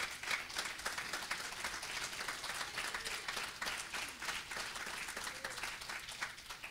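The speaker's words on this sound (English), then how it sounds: "Give God a big hand clap" A church congregation gives a sustained round of hand claps during a Thursday service, dense and even throughout, with faint crowd murmur beneath.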